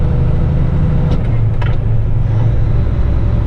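A truck hauling a 77,000 lb CAT 336 excavator rumbles loudly and steadily as the driver shifts gears without the clutch, with a few short mechanical clunks partway through.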